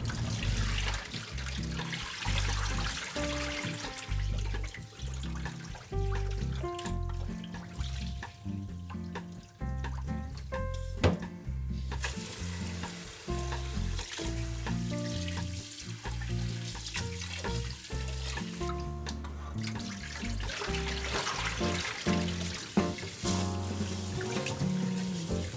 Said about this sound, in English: We'll wash the rice in cold water to remove the excess starch.